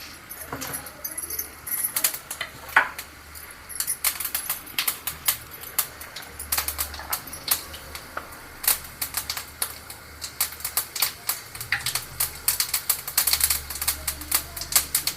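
Mustard seeds and fenugreek splutter in hot oil for an egg gravy, sharp irregular pops and crackles in quick clusters, close and fairly loud, with no speech.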